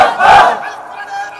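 A crowd at a Bangladeshi Islamic sermon gathering roars Allahu Akbar in unison, a loud massed shout that peaks early and then fades into a lingering murmur.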